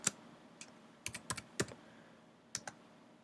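Keystrokes on a computer keyboard while typing into an iOS app in Xcode: scattered, close clicks in short bursts, with quiet gaps between clusters.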